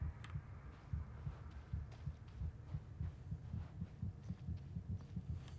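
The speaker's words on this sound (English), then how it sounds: "Not the heartbeat." A steady, muffled heartbeat sound effect in Genshin Impact pulses in even low thumps throughout, soft and close over a faint hum, with no talking.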